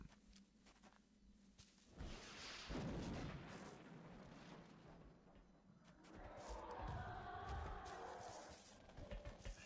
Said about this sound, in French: on va essayer de lui faire un petit tir de roquette pour la calmer